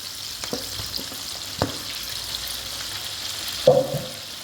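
Mutton sizzling in a karahi as ginger, garlic, tomato and green chilies go in, a constant faint fry hiss with a few light clinks and a louder scraping stir near the end, no talking.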